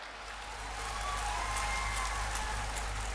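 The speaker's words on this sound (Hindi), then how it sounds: "इस पे तो जोर से ताली हो जाए जरा।" Applause from a crowd at a public government event, a broad steady patter of many hands clapping at a distance, rising slightly and holding to the end.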